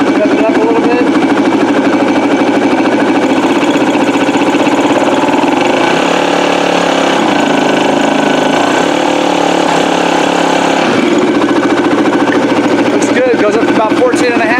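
A small engine idles steadily at a service check with the air filter off, a loud, continuous mid-pitched drone with a slight shift in tone partway through, while a person talks over it.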